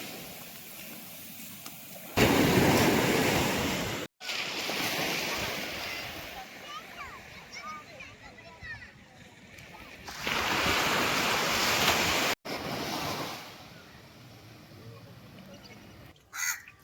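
Sea waves wash onto the beach shore at Ervadi with a steady rushing surf, mixed with gusts of wind buffeting the microphone, crows cawing, and someone speaking over the top.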